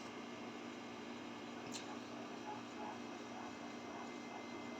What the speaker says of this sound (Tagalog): Pagpasensya mo na maingay yung aircon.